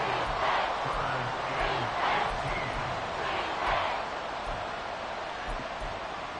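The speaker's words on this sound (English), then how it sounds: "This crowd turning up the decibel level." Stadium crowd noise from an American football video game, a steady broad roar with gentle swells in the fourth quarter on third and long, continuous with no speech.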